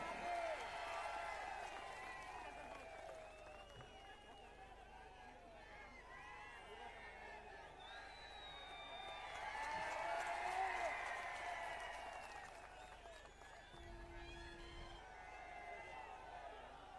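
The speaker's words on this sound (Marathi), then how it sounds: "जरा टाळ्या वाजून त्याचं स्वागत करा" A crowd at a political rally applauds steadily for several seconds to welcome a candidate, the clapping swelling louder midway before gradually easing off, with some murmuring mixed in.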